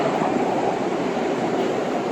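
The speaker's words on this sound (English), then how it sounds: "This is our first subway ride" A subway train rides along with a steady, dense rumble and rush of wheels on rails, heard from inside the car with no clear breaks.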